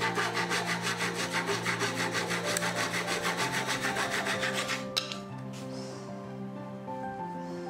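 Hand sawing through plywood to cut a chamfer: rapid, even back-and-forth strokes, about twenty in a steady rhythm, close and loud, then the cutting stops with a clack and quiet handling noise.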